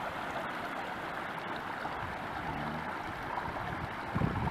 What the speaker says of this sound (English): So you can see here how the creek flows into the ocean.